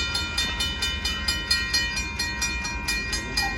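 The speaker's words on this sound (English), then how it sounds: "Here comes the northbound train." A northbound Union Pacific gravel train rolls past at a street crossing in Austin, Texas, with steady rumble, rhythmic wheel clacks about every quarter second and a continuous high metallic ringing, close and loud, with no talk.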